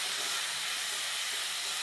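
Onions frying in a pan over low gas, with a dense, even hiss that stays close and steady throughout and no talk.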